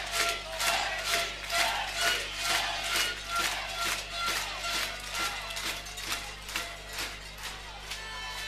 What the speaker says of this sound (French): Et comme vous l'entendez, le stade est en liesse